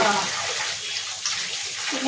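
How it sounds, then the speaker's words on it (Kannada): Water runs steadily throughout, a continuous close hiss like a tap filling a basin, with faint background voices underneath. "ನೀರು ಸೌಂಡ್ ಹೆಂಗೆ ಕೇಳುತ್ತೆ"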